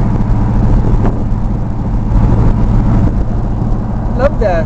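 A car engine rumbles steadily at low pitch while driving, a loud, continuous drone with faint road noise, and a voice speaks briefly near the end.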